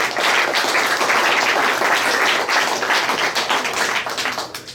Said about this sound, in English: Would you all please give a hand to Kagwey Parrish